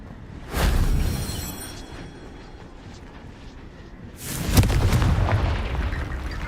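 Two heavy booming blasts from the Confringo blasting spell in the video game Hogwarts Legacy, each a loud burst with a rumbling tail, separated by a few seconds of lower rumble.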